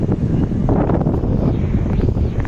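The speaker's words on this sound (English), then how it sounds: "It's so windy." Strong wind roars and buffets the microphone without a break, a loud continuous rush with no other clear sounds, in Patong, Phuket, Thailand.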